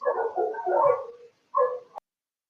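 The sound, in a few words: dog barking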